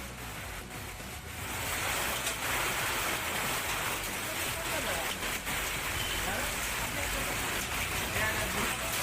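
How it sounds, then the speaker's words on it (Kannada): Heavy downpour over Chitradurga city, where a service road is flooded, hisses as a dense, continuous wash of rain that stays steady and unbroken throughout. "ಚಿತ್ರದುರ್ಗ ನಗರದಲ್ಲಿ ಧಾರಾಕಾರ ಮಳೆಯಾಗಿದ್ದು"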